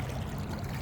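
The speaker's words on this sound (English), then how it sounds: "And this is running water, at least for this part of the creek." Running water in a shallow creek pours and trickles in a steady, close wash of sound, brief and without talk.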